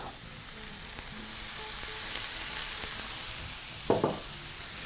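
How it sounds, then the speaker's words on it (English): Tripe added to a pan of golden fried onions sizzles steadily and loudly, with a short burst of clattering stirring near the end and no voices. "Now once those are nicely fried, we're going to proceed to add our tripe"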